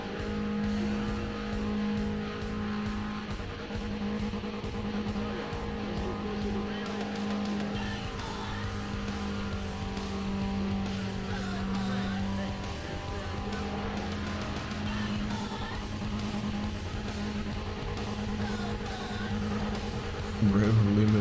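A Volkswagen Golf in the racing game Need for Speed: Pro Street holds its engine against the rev limiter, a steady droning buzz with rapid stuttering cut-outs, sustained for a long stretch at moderate level.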